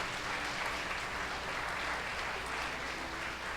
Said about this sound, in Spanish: Den un gran aplauso al Señor